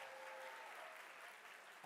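Audience applause at the Dead by Daylight 10th anniversary broadcast, a faint, steady wash of clapping across the whole short stretch.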